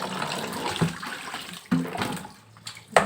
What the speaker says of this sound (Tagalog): Tagasan mo na ng tubig dito ang bitok sa tiyan niya.